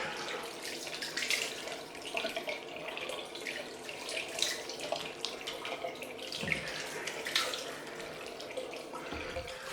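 Tap water runs steadily into a sink to rinse off after a head shave with a Mach 3 razor, a close, continuous splashing hiss with small splashes and drips as hands move through the stream.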